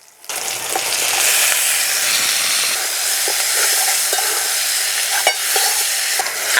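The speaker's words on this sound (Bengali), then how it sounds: "আলু দিয়ে খুব বেশি ভাজতে হবে না, 2 থেকে 3 মিনিট ভেজে নিলেই হয়ে যাবে" Cut potatoes sizzle and fry with spices in a pan, a steady, close, loud hiss that runs unbroken, with a few soft stirring clicks.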